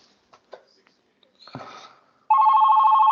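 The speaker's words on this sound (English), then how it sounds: "Oh, sorry, my phone's ringing." A telephone rings loudly and close by with a steady, sustained electronic tone, preceded by a few faint taps and rustles in an otherwise quiet room.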